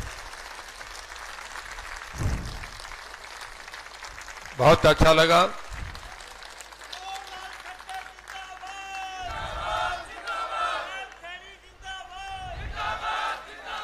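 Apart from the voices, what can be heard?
crowd standing and applauding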